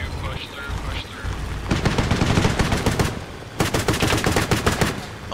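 Automatic weapons fire in the Arma 3 military video game, rapid bursts of shots, one stretch of steady rattling followed after a short gap by another dense volley, loud and close.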